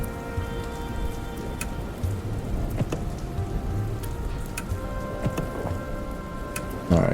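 Rain in the video game Dustland Delivery falls steadily on a hard surface, with scattered drop pattering and faint distant rumbles, continuous and moderately quiet with no talking.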